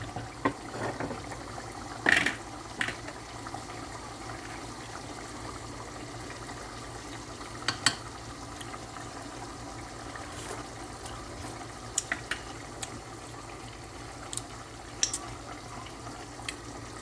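Water runs and splashes into a cooking pot of turnip greens in a kitchen, a quiet, continuous trickle broken by a few sharp clinks and taps, with no voices.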